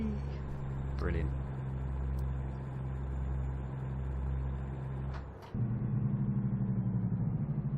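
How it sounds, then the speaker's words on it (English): A heavy truck's diesel engine in American Truck Simulator drones steadily, then shifts into a louder, pulsing engine-brake rumble partway through, with speech present over it. "that engine braking sound, gorgeous"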